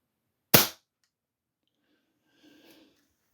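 A single sharp crack from a Diana Model 6 .177 single-shot break-barrel air pistol, close and loud, then silence with faint rustling handling noise about two seconds later.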